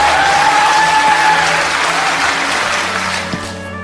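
Audience applause for a Korean performer's stage show, a dense, loud wash of clapping from a large crowd that holds steady and then begins to fade toward the end.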